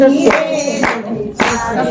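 Devotional kirtan with hands clapping in a steady beat at roughly half-second intervals, mixed with sustained group singing, loud and close.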